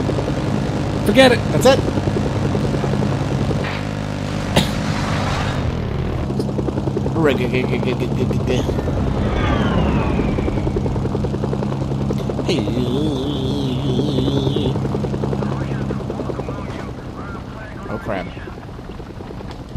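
Aircraft touching down in the Mercenaries video game, a steady broadband engine and rotor drone with whooshes and game effects underneath, while several people talk over it throughout.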